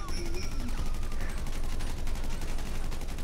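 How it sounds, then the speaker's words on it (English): Rapid gunfire or firework bursts crackle continuously during a Grand Theft Auto V game session, a dense loud stream of sharp pops under and around talking voices. "Somebody shoots fireworks."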